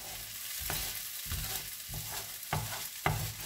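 A spatula scrapes the bottom of a hot wok of Cantonese fried rice with egg, several distinct rhythmic scrapes over a steady sizzle, close and clear with no voices.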